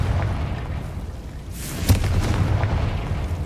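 A Confringo spell goes off in the video game Hogwarts Legacy, a muffled boom with a short, sharp burst near the middle, heard over continuous low rumbling game ambience.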